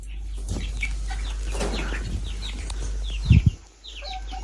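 Hens and roosters in a farm coop cluck and call repeatedly at close range, with a brief burst of wing flapping or scuffling near the end.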